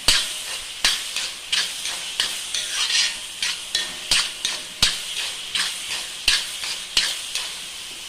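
Masala sautéing in a pan for dum biryani: a constant frying sizzle with rhythmic stirring scrapes roughly every second, close and clear, with no voices over it.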